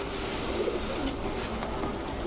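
Pigeons coo at a crowded pigeon market selling racer, giribaz and fancy breeds, a steady low murmur of overlapping calls running throughout with no pause.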